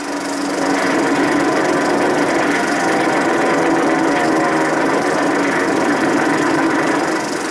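A Japanese Zero fighter plane's engine drones in a steady, loud, rough roar with crackly old wartime newsreel texture, continuous and unbroken for several seconds.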